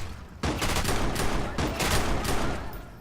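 Rapid bursts of gunfire from the video game Watch Dogs, a dense fusillade of shots with short gaps between volleys, loud and close throughout.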